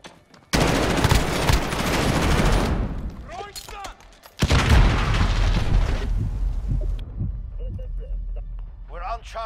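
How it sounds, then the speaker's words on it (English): Enemy cruise missile strike in a Call of Duty Modern Warfare Domination match: two loud, sustained blasts of roaring explosive rumble, the first dying off mid-clip and a second heavy burst following, with radio voice callouts heard between and after. "Enemy cruise missile, take cover."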